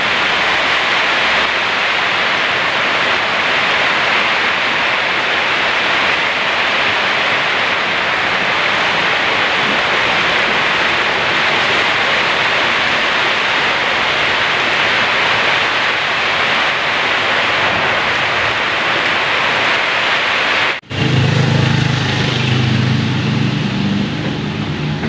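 Typhoon Aghon's strong wind and heavy rain roar as a steady, loud, unbroken wash of noise that stops abruptly for a moment near the end, then returns with deeper rumbling gusts.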